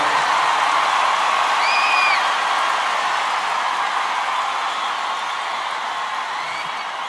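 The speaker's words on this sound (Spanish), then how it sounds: "Denle un aplauso fuerte" Sustained audience applause and cheering fill a Christian music concert, a steady wash of clapping with a brief whistle or whoop early on, fading slightly toward the end.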